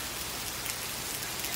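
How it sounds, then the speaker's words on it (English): Steady rain falls in a short, dense wash of drops with an even, constant hiss and no voices. "If it was raining like this on the property, that winter ride would take off like crazy."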